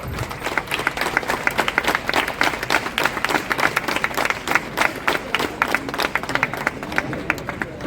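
An audience claps for prize-winning runners at a marathon awards ceremony in Paradip, with loud, uneven bursts of hand claps forming a continuous outdoor round of applause.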